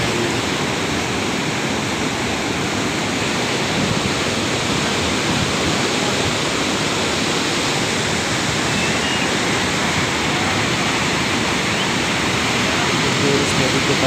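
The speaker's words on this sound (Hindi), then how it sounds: "इसके नीचे से नदी बह रही है" A river rushes beneath two bridges at Kedarnath, Uttarakhand, as a loud, steady roar of turbulent water. The broadband sound stays constant throughout and completely dominates the scene.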